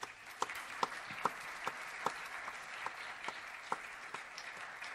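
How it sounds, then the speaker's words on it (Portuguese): An audience at a live music show during a mental health festival in Funchal claps in rhythm, steady beats at about two per second over a soft crowd bed, with no voices clear. "uma salva de palmas"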